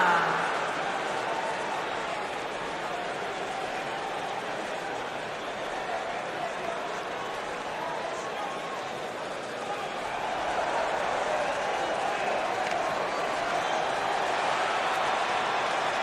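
Steady arena crowd roar and cheering in the WWE 2K19 wrestling video game, a continuous broad wash of noise that swells slightly toward the end, with commentators talking over it.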